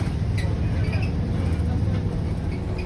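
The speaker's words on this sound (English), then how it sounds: "Engine's a bit loud, isn't it?" Bus engine running on route 50 toward Stratford-upon-Avon, heard from inside as a loud continuous low rumble with a voice talking over it.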